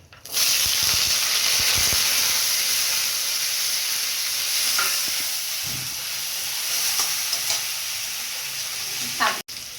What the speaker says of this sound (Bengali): তেল হয়ে গেছে, আমি আমড়াটা দিয়ে দিচ্ছি।